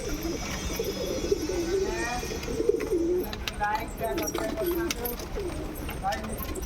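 Domestic pigeons kept in Cuttack coo in low, repeated throaty phrases throughout, with voices talking over the birds and steady background noise.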